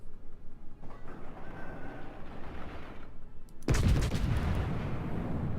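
Warship gunfire in World of Warships, a broadband boom hitting loudly near the end after a rumbling naval battle ambience, with the blast's roar sustaining to the end.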